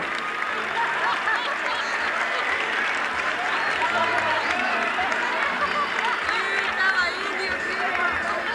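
Theatre audience at a 1983 carnival show in a tent theatre applauding as dancers leave the stage, a dense, steady wash of many hands clapping at moderate distance, with crowd chatter and a voice talking over it.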